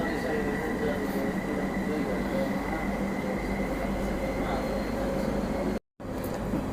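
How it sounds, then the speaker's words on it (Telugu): A Riyadh Metro train runs with a steady loud rumble and rolling hum heard from inside the car, a faint high whine over it, continuous throughout apart from a brief dropout near the end. "రియాద్ సిటీలో నిజంగా మెట్రో జర్నీ చాలా సేఫ్ అండి"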